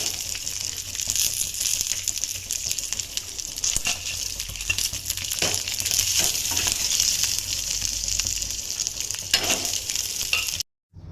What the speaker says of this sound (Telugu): కరివేపాకు వేసుకున్నాక ఎర్రగడ్డ కొంచెం లైట్గా వేయించుకుందాం.